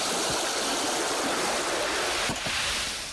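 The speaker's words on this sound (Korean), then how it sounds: "누가 파도 소리를 내었어?" Seawater flows steadily across the pans of a salt farm at dawn, making a dense, continuous rushing hiss much like ocean surf, close and even throughout, with a couple of soft knocks near the end.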